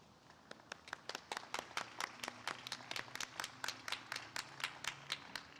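Applause at a graduation hooding ceremony for a psychology master's class: a steady run of sharp, evenly spaced claps, fairly near and moderate in level, continuing without voices.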